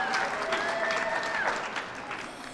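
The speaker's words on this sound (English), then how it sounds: "Give them a round of applause." Audience applause at a Native American Heritage Month reception, a steady wash of clapping lasting a couple of seconds with a whistle-like tone sliding over it, easing slightly toward the end.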